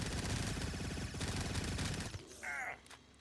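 Rapid automatic fire from an AK rifle in a Cold War Zombies-style shooter game, loud dense rattling bursts for about two seconds, then a short pause with brief electronic game sounds.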